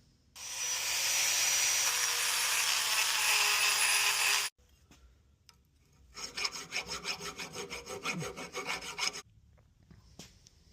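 Abrasive cutting away material to clearance a used engine mount for a Ford Godzilla engine swap, heard as one long steady grinding rasp, a short pause, then a choppier, pulsing run of cutting, close and loud with no talk.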